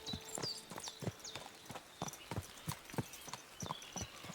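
Horse hooves clip-clop steadily in Kingdom Come: Deliverance II, a quiet, close, regular walking rhythm of sharp knocks with no talk over it.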